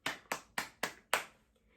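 Five sharp hand claps in a steady, slightly uneven rhythm, close and alone, with the last clap a touch louder before a brief quiet tail.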